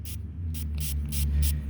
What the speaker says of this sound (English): The dirt just flies off of it when I spray it.